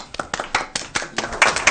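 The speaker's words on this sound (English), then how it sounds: "give her a round of applause" School board members applauding at a board meeting: brisk, fairly close hand claps in an uneven, steady patter, a modest group rather than a large crowd, with no voices over it.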